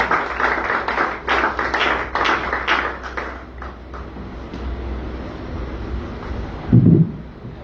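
A church congregation applauds to acclaim Jesus Christ during a French-language service. The clapping comes in a dense, rhythmic burst for about three seconds, then fades into the room, with a low thump near the end.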